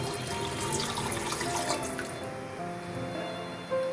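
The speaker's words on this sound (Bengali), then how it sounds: "পুরো মশলাটা থেকে তেল ছাড়তে শুরু করলে পরিমাণ মতন জল দিয়ে দিচ্ছি" Water poured steadily into a pan of raw banana kofta curry, a continuous close splashing gush that runs for a few seconds and then thins out.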